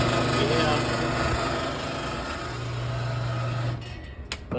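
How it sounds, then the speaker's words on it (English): A drawer freezer's compressor struggles to start, giving a low steady hum with a mechanical buzz that drops out near the end, followed by a few faint clicks. "The compressor will try and fire off."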